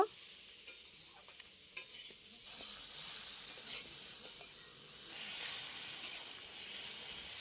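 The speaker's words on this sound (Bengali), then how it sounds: "এবারে আমি দিয়ে দিচ্ছি একই সাথে ঝিঙে। ঝিঙে দিয়ে বেশ কিছুক্ষণ কষিয়ে নেব।" Ridge gourd, potato and drumstick pieces sauté in a pan with a soft, steady sizzle and occasional light scraping stirs, fairly quiet and close, with no talking.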